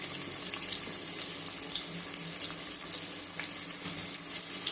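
Sliced onions frying in oil in a pan for Muslim-style chicken biryani, a steady close hiss and sizzle that runs unbroken throughout with no voices.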